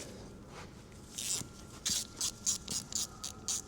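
Ratchet loosening an 8mm coolant drain bolt on a Husqvarna SMS 125 supermoto: faint background at first, then a close run of about seven crisp, rhythmic ratchet clicks, with no talking.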